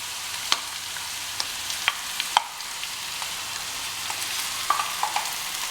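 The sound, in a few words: mutton mince frying in a pan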